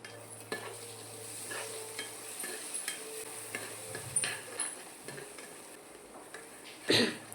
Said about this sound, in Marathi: तेल सुटेपर्यंत मी मसाला परतवण्यासाठी आपली पेस्ट घातली